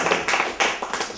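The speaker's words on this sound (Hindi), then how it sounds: "अपनी तालियां।" A studio audience at a comedy stage show claps in a few quick, loud bursts, several sharp clustered claps close by with short gaps between them.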